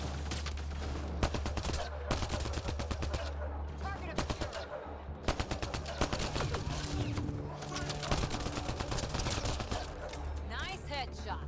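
Rapid bursts of gunfire crackle almost continuously in the video game Mass Effect: Andromeda, loud and dense with short gaps, with some voices heard among the shots.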